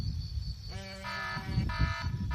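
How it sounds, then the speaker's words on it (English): A phone alarm goes off with repeated electronic tones in short bursts, sounding in a quiet room over a low background rumble. "Rick's phone startled him awake again, but this morning it was from the alarm he had set the previous night."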